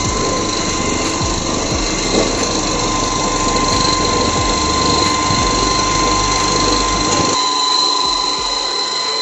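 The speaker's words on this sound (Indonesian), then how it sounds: "ini adalah mesin penepung yang kami gunakan" A coffee grinding mill machine that grinds beans as fine as flour runs with a loud, steady motor whine and rattle, then cuts off abruptly near the end.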